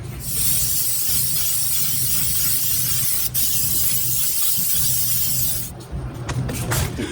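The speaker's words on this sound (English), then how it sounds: "we're gonna spray these with lacquer" A steady, loud hiss of a lacquer spray can runs for several seconds over wooden coasters, then cuts off, followed by a few light knocks and clatters.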